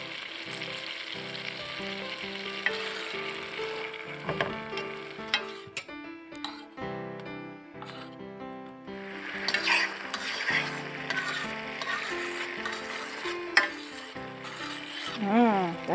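Shrimp scampi sizzles steadily in real butter, garlic and other seasonings, a continuous frying crackle with occasional stirring clinks of a utensil in the pan throughout.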